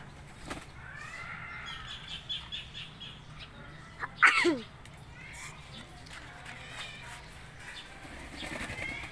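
A flock of pigeons bathing in water suddenly takes off, with one loud burst of flapping wings up close amid softer rustles and coos, while people talk nearby.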